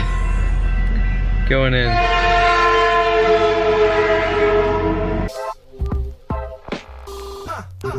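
A train rolls past close by, its horn blaring long and loud with a rumbling undertone, then the noise cuts out and someone talks in short bursts over quieter surroundings.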